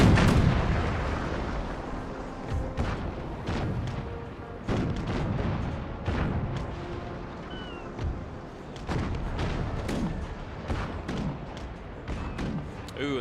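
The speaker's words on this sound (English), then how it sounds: "They are about to get a nice broadside on us, I think." Ship cannons firing broadside volleys in the naval battle video game Total War Empire, a dense string of booming shots and thuds, some near and some distant, over continuous rumbling battle noise.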